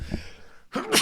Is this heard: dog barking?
no